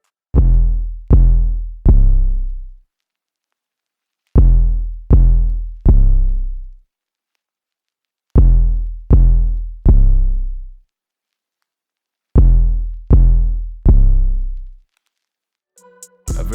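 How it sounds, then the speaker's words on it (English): Deep 808 bass hits from a guitar-based beat boom in four groups of three, each note decaying quickly, with silent gaps between groups and a brief different sound entering at the very end. "And for the last sound, we have an 808"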